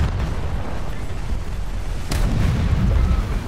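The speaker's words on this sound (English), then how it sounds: "the MPK-163 with his 85mm main gun" In the naval battle game War Thunder, the MPK-163 fires its 85mm main gun, a heavy deep boom over a dense rumbling backdrop of battle noise, with one sharp blast standing out midway.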